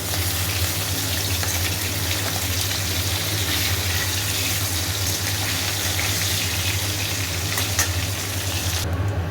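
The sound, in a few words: bhola fish frying in a pan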